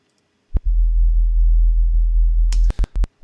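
Synthesized sine-wave sub bass in an electronic track, a deep steady low tone sustained for about two seconds, then cut into short rhythmic pulses alongside brighter hits near the end.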